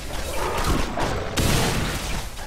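Video game gunfire from Borderlands 2 rattles in a dense, continuous barrage, loud and close, with a sharp burst standing out midway through.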